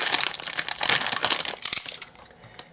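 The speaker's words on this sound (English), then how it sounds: "I can't find my scissors, so I'm going to have to use a knife to cut that open" A knife slicing open a plastic LEGO parts bag, close crinkling and rustling of the bag in quick bursts that fade out near the end.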